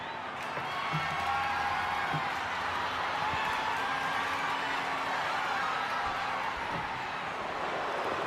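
A dense, steady roar from a WWE 2K26 video game arena crowd with a faint undercurrent of reaction, continuous throughout, with a commentator talking over it.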